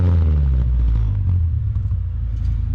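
A Honda EG hatchback idling through a custom 2.5-inch mandrel-bent stainless exhaust with a Spoon muffler, giving a deep, fairly subdued rumble with slight throttle wavering, close and alone.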